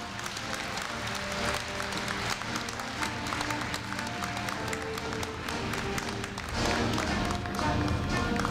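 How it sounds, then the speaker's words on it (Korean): A large audience applauds at the Korea University 2015 freshman entrance ceremony, with dense, sustained clapping filling the hall continuously and swelling slightly louder near the end. "큰 박수 부탁드립니다."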